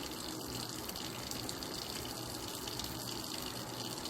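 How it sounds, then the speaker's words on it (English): Tap water runs steadily and fairly quietly while hands are washed with soap during a handwashing demonstration. A continuous broadband splashing rush holds with no talk or breaks. "And then wet our hands, of course."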